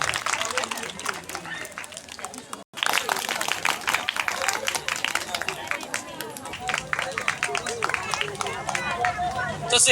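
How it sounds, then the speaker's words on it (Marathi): An audience at a village gram panchayat event bursts into applause, a dense patter of many hands clapping at once, briefly broken by a gap and then resuming alongside crowd murmur and speech. "टाळ्या होऊन जाऊ एकदा पुन्हा एकदा"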